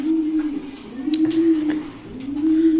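Racing pigeons coo in a loft, a steady low rolling coo repeating in long phrases close by, with faint flutters and small knocks behind.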